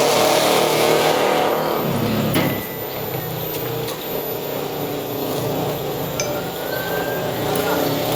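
A car backs up to park at a village wedding gathering, its engine a steady nearby rumble under a broad wash of outdoor crowd noise, with a few faint clinks.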